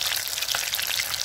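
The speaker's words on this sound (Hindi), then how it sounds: "इसको भी अच्छा से फ्राई करना है" Fish frying in hot oil for a fish fry gravy dish, a steady close crackling sizzle with dense popping and no voices.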